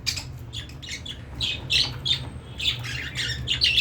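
White and green lovebirds squawk in short, harsh bursts while eating foxtail millet grass, a repeated uneven chatter that comes close and fairly loud.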